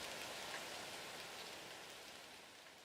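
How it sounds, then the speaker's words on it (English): Heavy typhoon-strength rain with strong wind in the Fantasy Tavern video game: a dense, steady, unbroken roar of downpour, close and full, with no voices. "Rather than letting up, the rain is getting worse."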